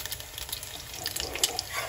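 A small amount of water poured into a pan while cooking lemon chicken breast, a continuous light splashing and trickling with a few drips, close and fairly quiet, with no talk.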